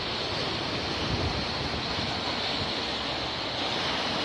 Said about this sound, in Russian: Так, сильный ветер дует.